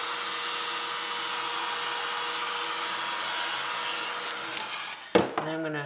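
A heat dryer blows in a continuous, even whoosh over wet paint on an art journal page, then cuts off near the end, followed by a few short handling clicks and rustles.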